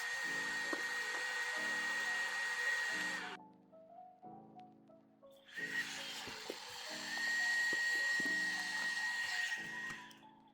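A Milwaukee Packout portable vacuum runs close by while cleaning debris from a central AC condenser, its whining motor roar cutting out briefly and restarting, with faint clunks and rattles between bursts.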